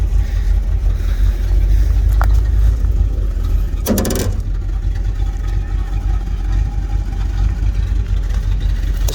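A 6.2L diesel GMC Squarebody 3+3 tow truck running, a steady low engine rumble close by, with a brief clank or rattle partway through.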